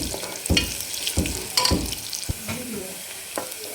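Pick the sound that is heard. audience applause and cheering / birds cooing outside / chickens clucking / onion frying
onion frying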